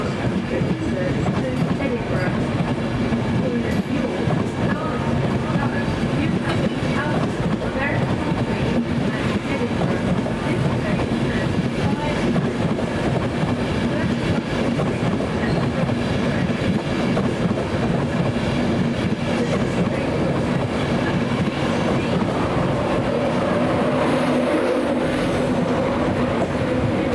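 A train arriving at a platform at Leeds station rumbles and rattles steadily along rails close by, wheels clacking over a continuous low roar, with faint voices in the background.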